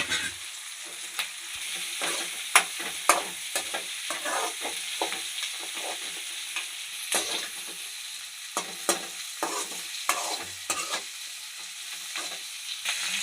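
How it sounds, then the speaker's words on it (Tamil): Green chilies sizzle steadily in hot oil while a utensil stirs, producing scattered scraping clicks over the constant frying hiss, for a tamarind chili relish. "நம்ம கீரி வச்ச பச்சை மிளகா நல்லா எண்ணெயிலே வேகணும்"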